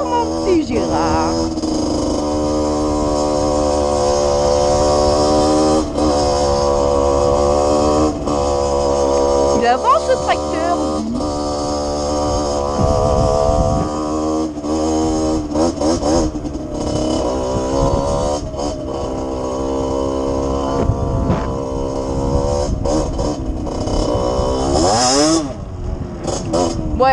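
A loud tractor engine runs steadily up close with a low rumbling drone, its pitch shifting as it revs, while voices talk over it, in a snowy setting.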